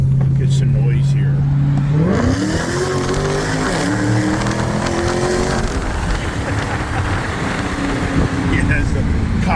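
A Dodge Hellcat Redeye engine rises from a steady drone into a hard, climbing rev as the car accelerates with its windows down. The engine roars loud and close throughout, with a harsh rushing texture.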